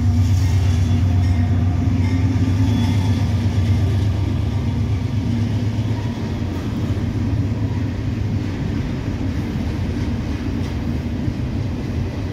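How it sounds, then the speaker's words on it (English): A northbound Norfolk Southern freight, a one-unit mixed manifest running at restricted speed, rumbles past steadily with a deep, continuous roar and rail noise that stays loud and close for the whole stretch, with no voices. "This is not a typical Norfolk Southern train."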